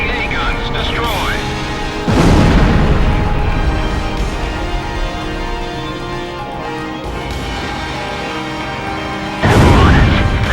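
Heavy explosions boom out as an anti-aircraft gun battery is struck in the combat flight game Ace Combat Zero: two loud, broad blasts, one early and one near the end, rising over a steady, dense bed of in-game sound.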